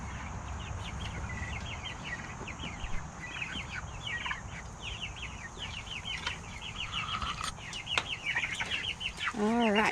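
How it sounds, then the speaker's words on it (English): Turkeys and chickens being moved give off a steady stream of clucks and chirping calls, with scattered wing flaps and a few louder squawks toward the end. "we're moving the turkeys and the chickens"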